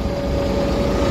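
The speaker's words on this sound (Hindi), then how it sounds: "इसलिए इसको हम क्रेन के साथ उठा के आगे रखेंगे जी।" A Kato 20 ton mobile crane engine drones steadily while lifting a tractor at a work site, a loud, even low rumble with a constant whining tone and no talk.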